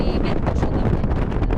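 Strong wind buffets the microphone beside a swollen river in O Porriño, Spain, in a continuous loud roar with gusty fluctuations.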